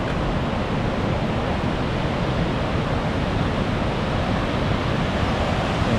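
The waterfall at Willow River State Park gives off a steady, loud roar of rushing water that does not change, filling the whole space with a broad constant wash and no voices.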